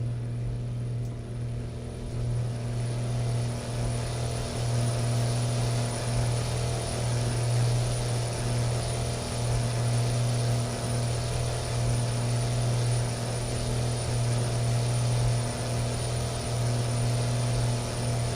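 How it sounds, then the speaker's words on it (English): A Kenworth W900B truck engine in American Truck Simulator pulls a quad lowboy trailer, holding a steady, loud, low droning rumble with constant tonal hum and no pauses throughout. "Let's roll down these windows and hear this engine working."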